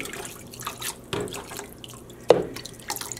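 Dark navy liquid dye is poured over twisted skeins of yarn, with soft wet splashes and trickling drips and one sharper splash near the end.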